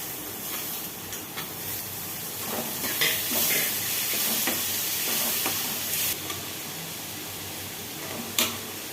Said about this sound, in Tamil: இப்போ நம்ம இந்த தக்காளியை போட்டு வதக்கிக்குவோம்